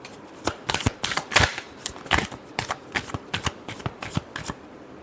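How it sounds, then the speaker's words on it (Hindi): Tarot cards are shuffled in quick repeated riffles, a run of crisp papery flutters and slaps close up, loud and rhythmic with brief pauses between bursts. "last shuffle"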